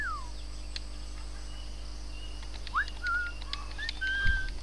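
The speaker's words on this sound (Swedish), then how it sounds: "Vissla." A character whistles in the pirate video game Assassin's Creed: Black Flag: short, thin tonal whistle notes over a steady backdrop of insect and bird-like ambience.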